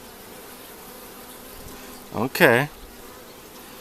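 Honey bees swarm around an opened beehive during a frame inspection, a steady close buzzing hum running throughout while a voice briefly speaks partway through.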